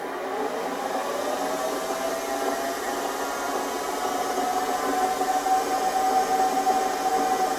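A Chinese mini lathe runs at slow speed, around 96 RPM, giving a steady close motor whir and gear hum with no breaks, holding even loudness throughout.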